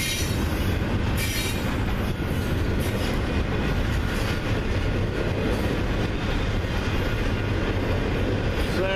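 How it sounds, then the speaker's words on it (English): A freight train rumbles past nearby, picking up speed, with continuous heavy rolling noise, rhythmic wheel clatter and faint squeals, loud and steady throughout. "as this train clears the sensor for the crossing gate,"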